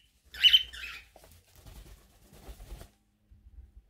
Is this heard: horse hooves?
no